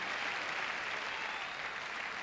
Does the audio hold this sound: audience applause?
yes